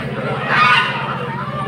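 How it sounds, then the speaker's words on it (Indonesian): Loud honking and quacking of ducks in a dense, busy crowd at a market, with a voice talking faintly underneath. "Bibit meri, bibit bebek tuh."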